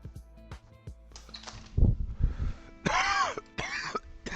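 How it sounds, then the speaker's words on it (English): A person's cough, loud and close, with a harsh burst in the middle and two or three rougher throat-clearing bursts toward the end, following some softer clicks and knocks. "There's the proper cough."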